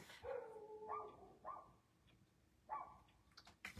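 Several dogs bark at night in scattered, faint, distant bursts: a few yips and short barks spaced over a few seconds, with quiet gaps between them.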